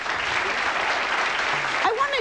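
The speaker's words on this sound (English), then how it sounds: "so a little bit of applause for that" Crowd applause at a mambo performance, steady dense clapping throughout the short stretch with a voice briefly audible near the end.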